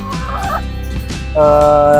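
Laying hens in a small home coop give loud, close, throaty fowl calls: a short warbling burst, then a sustained rattling call near the end.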